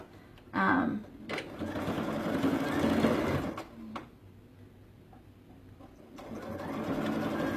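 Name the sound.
sewing machine sewing a shoulder seam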